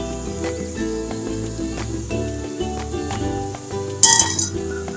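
Crispy fried lentil fritters for a vegetarian Bengali dish clink and rattle together as they are lifted out of the pan, ending in a sharper metallic knock near the end.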